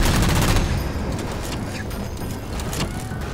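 Heavy gunfire in Halo 4, a dense, continuous barrage of rapid shots with rumbling engine-like undertones, loud and close throughout.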